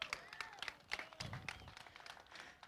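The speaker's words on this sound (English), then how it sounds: "Round of applause." Scattered applause from a crowd at a drag racing event at Cordova Dragway, sparse uneven claps and a few cheers at low level, thinning out over a few seconds.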